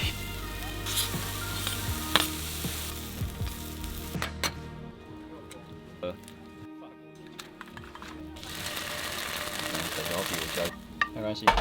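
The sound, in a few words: mushroom omelet frying in a pan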